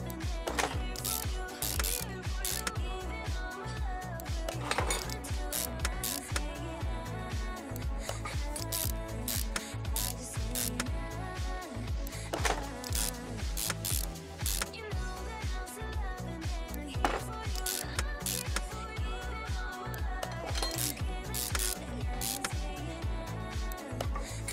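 Ratchet wrench spinning and clicking as bolts are screwed in Car Mechanic Simulator 2021, a steady mechanical ratcheting that runs throughout, layered over constant in-game workshop sound.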